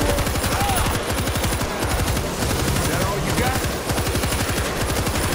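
Sustained automatic gunfire hammers on without pause in World War Z, a loud, steady rapid stream of shots filling the whole stretch, with a voice faintly underneath.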